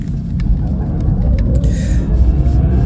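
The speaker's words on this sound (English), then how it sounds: "listen to the digitized sound that comes out from the speakers. This is how the new Coupe SE sounds like." A continuous low, droning engine-like rumble with a synthetic hum, steady and fairly loud throughout, the digital drive sound played through the speakers of a 2024 Mini Countryman SE electric car.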